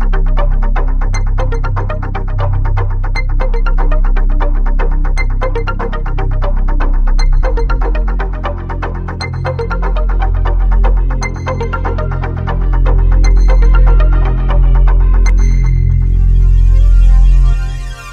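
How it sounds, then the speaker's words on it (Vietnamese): A bread packaging machine runs continuously on a production line, giving a loud, steady mechanical hum with rapid repeated clicks and beeps throughout and a brief shift in texture near the end. "Đây là máy đóng gói, bánh được đưa vào dây chuyền và được đóng gói lại liên tục"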